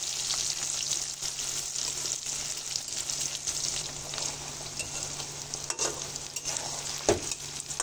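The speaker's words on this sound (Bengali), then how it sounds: "পেঁয়াজ, ডিমের সঙ্গে হালকা করে আবারও ভেজে নেব" Onions and egg fry together in a pan with a dry chilli, a steady close sizzle with stirring scrapes and a couple of sharper clicks near the end, no voices.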